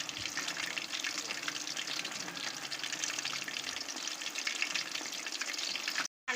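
Pieces of food frying in hot oil in a pan make a steady, close sizzle that hisses without a break, cutting out for a moment just before the end.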